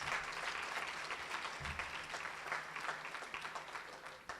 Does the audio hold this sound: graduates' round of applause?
yes